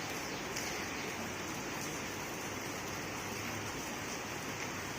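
Heavy rain pours down outside in a dense, even, continuous hiss with no breaks or nearby voices.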